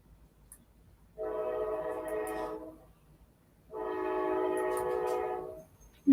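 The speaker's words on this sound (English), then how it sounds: "The train is a-comin'." A train horn blows two long, steady blasts separated by a pause, loud and fairly near over a low background rumble, with no talking.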